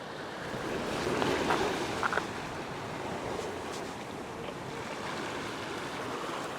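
Ocean waves washing over coastal rocks at high tide during winter rock fishing, a continuous broad hiss and wash with mild swells, steady and moderately distant, with some wind.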